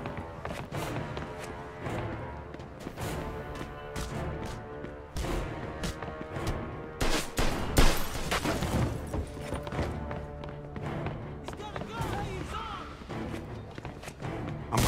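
Gunfire in the Mafia II: Definitive Edition game: dense, rapid shots and sharp cracks pile up with thuds and crashes throughout a busy, loud firefight, peaking in a heavy volley midway.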